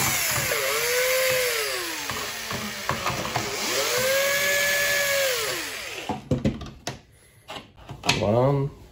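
A screwdriver works the six screws out of a Nak Tarhu's internal side, giving repeated ratcheting, scraping bursts over a steady motorized whine that rises and falls, with brief clicks near the end.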